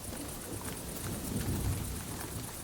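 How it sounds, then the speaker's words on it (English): Monsoon downpour in Maharashtra, India, in early July: a steady, dense wash of heavy rain with low thunder rumbling beneath it, continuous and enveloping, with no voices. "It's early July in the state of Maharashtra, and the monsoon is breaking"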